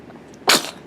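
A baby gives one short, sharp sneeze, a sudden close burst lasting about a quarter second amid otherwise quiet surroundings.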